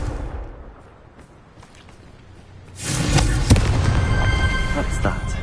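A Harry Potter Confringo blasting spell goes off after a quiet, rumbling lead-in, a sudden crackling explosive burst that stays loud and sputtering to the end.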